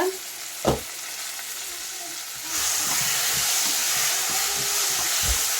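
Potatoes sauté in oil and tomato juice in a pan for a tin fish curry, giving a steady frying sizzle and hiss that steps up louder partway through, with a single sharp knock early on and a few soft stirring scrapes.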